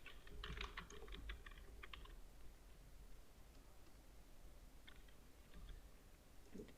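Quick bursts of typing on a computer keyboard while filling in a PDF form, clustered clicky keystrokes separated by quiet pauses, soft and close.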